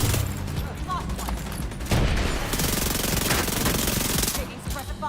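Heavy suppressive gunfire in The Division 2, automatic weapons chattering in continuous overlapping bursts, loud and near, with a voice faintly underneath.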